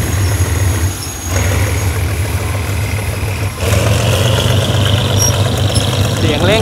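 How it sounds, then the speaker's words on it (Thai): The GEK 4045 diesel locomotive's Cummins KT38L engine, rated at 1,320 horsepower, revs at a railway station. A deep, loud rumble dips briefly, then surges back with a rising tone. "เสียงเร่งเครื่องนี่มันมากสำหรับเจ้าปู่ GEK นะครับเครื่องยนต์คัมมินนะครับ KT38L นะครับ"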